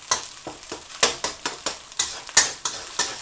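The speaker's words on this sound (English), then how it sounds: "So to let the eggs cook, get them" Eggs cook in a pan for fried rice, a lively sizzle broken by a quick, regular series of utensil strokes, around a dozen close, sharp scrapes and stirs against the pan.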